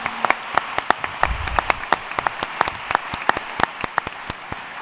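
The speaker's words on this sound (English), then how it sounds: "I would love to just give a round of applause to all of you" Scattered clapping from an audience welcoming newly admitted students at a college previews address, sharp individual claps in an uneven rhythm over a low room murmur.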